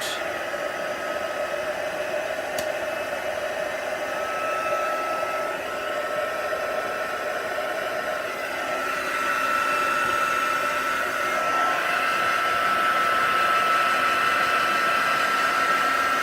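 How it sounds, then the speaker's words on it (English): Heat embossing tool blowing steadily as it melts embossing powder on a card, a constant close whirring hiss like a small hair dryer with a faint tonal whine, running alone without pause. "And I'm just heating up and melting the embossing powder."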